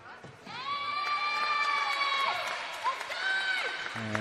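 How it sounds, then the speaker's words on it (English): A cheer erupts from the Quake team bench at a women's futsal grand final: several seconds of sustained, shrill crowd shouting and whooping that rises quickly and carries steadily to the end. "big cheer from the Quake bench as they force the turnover"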